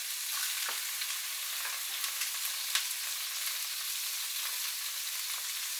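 Steak, onions and an egg frying on a hotplate give off a steady, close sizzle with scattered crackles and pops throughout, with no talking.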